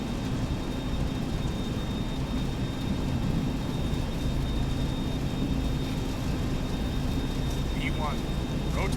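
A Boeing 737-200 in a flight simulator roars at takeoff thrust with a steady, loud engine rumble and a constant whine, continuous throughout, with faint chirps near the end.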